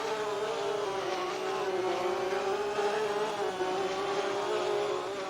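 A Spectre sports race car roars past on a circuit during a sports car race, its steady high engine note loud and close for several seconds, with no talk over it.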